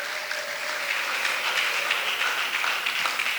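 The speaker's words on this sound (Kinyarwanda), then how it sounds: "Komera Imana yacu amashyi" Church congregation applauding, a steady wash of clapping from a crowd at moderate distance, even and sustained throughout without talk.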